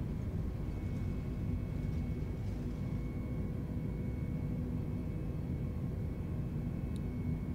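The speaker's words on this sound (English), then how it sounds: "So here it is, we're off the ground." An Airbus A320neo climbs away after takeoff in Microsoft Flight Simulator, its engines giving a steady, low, even drone with a faint tonal whine that holds throughout with no voices.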